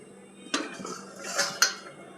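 A metal lid is lifted off a pot of potatoes boiling on the stove, giving two sharp clinks of metal on metal about a second apart over a soft background.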